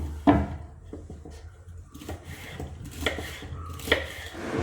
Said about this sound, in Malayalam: അപ്പോൾ നമ്മുടെ പയർ കട്ട് ചെയ്തെടുക്കാം കേട്ടോ. ബോർഡ് വെച്ചിട്ട് കട്ട് ചെയ്യണേ